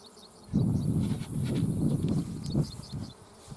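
A dense, steady buzz of many honeybees in an open hive swells in after a brief quiet moment and continues close by, with the droning rising and falling slightly.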